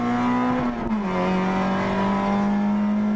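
A Peugeot 206 XS rally car on the Santa Pellaia stage of the 2015 Rally Empordà drones loud and close from inside the cabin. The engine pitch dips briefly mid-run as it shifts gear, then holds steady under power.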